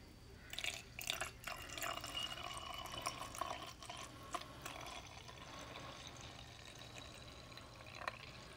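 Homemade room and linen spray poured into a small 4-ounce sampler bottle, a thin trickling liquid stream with a few sharper drips and splashes near the start, close and fairly quiet, no talking.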